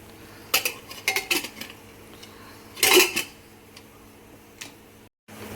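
Metal clanks and clatters as a lid is fitted onto a pressure cooker, a few sharp knocks followed by a louder rattling clunk.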